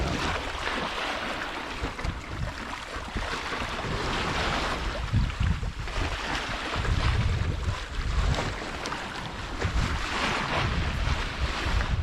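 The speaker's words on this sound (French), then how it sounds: "Quel plaisir d'entendre ce bruit de l'eau contre la coque" Water sloshing steadily against the hull of a sailing boat under way on the open sea, with constant wind rush buffeting the microphone and rolling surges, loud and continuous without voices.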